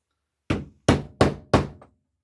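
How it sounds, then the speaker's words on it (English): Hammer striking a metal stamping tool on leather while tooling a leather chest: four sharp, close knocks at a steady rhythm, each fading quickly, with a faint fifth tap after the last. "let me get my bigger hammer for this"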